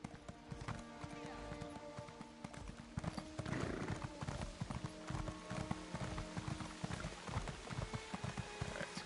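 A horse trots in Elder Scrolls Online's Morrowind DLC, its hooves making a steady, rhythmic clip-clop throughout, with a soft rain-like hiss in the background.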